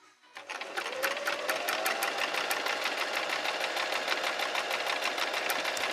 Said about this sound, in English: It was now time for me to put my sewing skills to the test and make Charlie a new bed for the van.